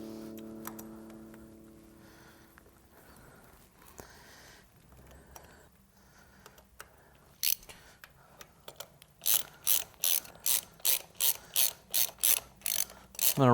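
A screwdriver ratchets in quick, evenly spaced clicks as screws are run down on a Cobra RPT intake backing plate over the throttle body of a Twin Cam Touring bike, the clicking loudest and most regular toward the end, with no talk.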